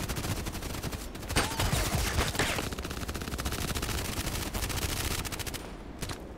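Gunfire in the online shooter Contract Wars, with rapid automatic bursts rattling almost without pause. The shots are loud and dense, layered over constant game noise, and ease slightly near the end.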